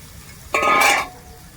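Brinjal pieces drop into hot oil in a pan on a wood-fired village stove and are stirred, a loud burst of sizzling and scraping lasting about half a second before settling back to quiet.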